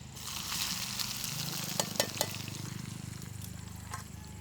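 Chopped onion sizzling in hot oil with cumin, garlic and curry leaves, a steady close frying hiss with a few sharp crackles and stirring scrapes, no talk.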